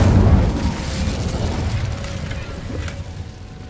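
An Incendio fire spell in the Hogwarts Legacy video game: a loud whooshing burst that settles into a steady crackling, rumbling roar and slowly fades.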